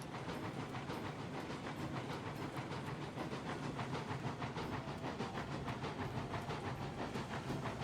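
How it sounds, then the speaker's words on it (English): Steady rhythmic chuffing of a steam locomotive in the video game Railroads Online, with a continuous hiss, even and unbroken from start to finish. "Listening to the chuffs cruising around."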